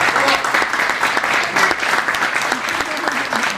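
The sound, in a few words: audience round of applause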